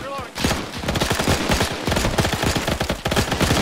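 Dense, continuous gunfire in a military video game: rapid overlapping bursts of automatic and rifle shots close by, loud throughout with no pause, with brief voices mixed in.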